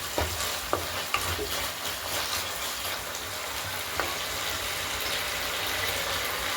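Onion, chopped tomato, four green chillies and salt stir-fried together in a pan for a dried shrimp and mixed vegetable dish, a steady continuous sizzle with occasional scraping stirs and light clicks, close and alone without talk.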